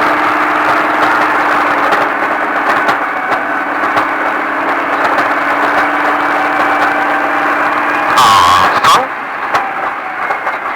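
Off-road vehicle engine held steady under throttle on a Las Vegas off-road course, a constant mid-pitched drone running for the whole stretch, louder and harsher near the end, with an instructor talking over it.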